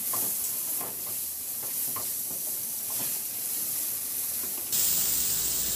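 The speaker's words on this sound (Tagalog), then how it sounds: "Igisa ko na rin yung bawang. At isunod ko na rin ilagay yung sibuyas." Garlic and onion sauté in a wok with a little oil, a steady close sizzle and hiss broken by faint clinks of stirring, brightening and growing louder near the end as more goes into the pan.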